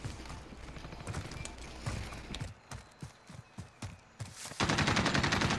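Gunfire in Call of Duty: Modern Warfare: an opening burst of rapid shots, then a string of separate distinct shots with short gaps, ending in a loud sustained stretch of firing.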